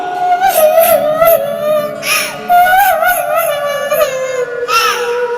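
A cartoon bird named Tuntuni cries in a high, wavering voice, sustained sobbing wails rising and falling over about five seconds, loud and close, with a few sharper cries breaking through.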